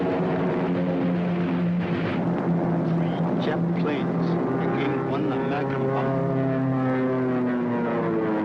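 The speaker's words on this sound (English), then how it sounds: "That was a Japanese plane which came" A Japanese propeller plane drones overhead in a 1942 spy thriller film, a steady loud engine hum with shifting pitch as it passes, sustained throughout with no voices.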